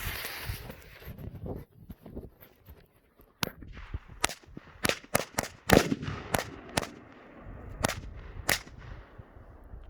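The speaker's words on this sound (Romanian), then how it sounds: "Floare de petarde cu 3 focuri, Cometa și un FS3 Demon." Rapid sharp cracks from a string of firecrackers, then a 3-shot firecracker flower, a Cometa and an FS3 Demon go off, about a dozen loud, separate bangs spaced irregularly across the second half, with no voices.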